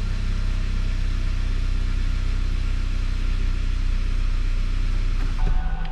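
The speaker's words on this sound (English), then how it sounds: "I'll give it a little bit of gas. Just let it run a couple seconds." A Kia Optima 2.0L turbocharged four-cylinder runs at a steady idle after a bit of throttle, giving an even, continuous low rumble close by that shifts slightly near the end.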